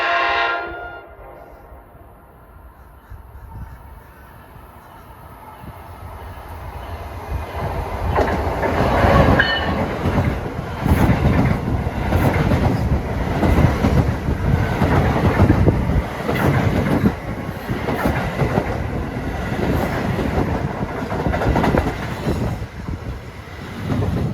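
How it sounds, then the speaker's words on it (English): A commuter transit train bound for New York rumbles past close by on track 1, its wheels clattering rhythmically over the rails. A sharp horn-like tone sounds at the start, and the loud passage keeps building. "here comes a transit train for New York on track 1"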